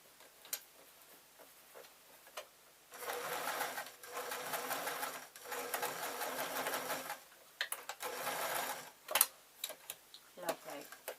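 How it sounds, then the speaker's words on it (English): A sewing machine stitches through a lined and interfaced grab bag in two long continuous runs, with brief pauses and small clicks and handling noises between them. "I'm going to place it under the sewing machine."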